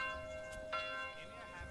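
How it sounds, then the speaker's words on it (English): A single church bell chime in the medieval city-building game Manor Lords rings out with a sustained, slowly decaying metallic tone over a faint game ambience. "yes, thank you, church bell."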